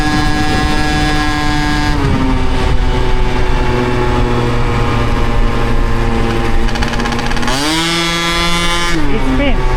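Aprilia SR scooter with a 70cc Athena kit and Hebo exhaust, a loud, raspy two-stroke engine buzzing steadily near the microphone at low and mid revs, with a sharp rev rise and drop near the end.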